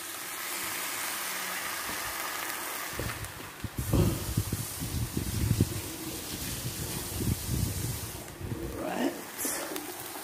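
Birria taco tortilla, dipped in sauce, hisses and sizzles in a hot pan: a steady, close frying hiss that swells with louder crackling bursts.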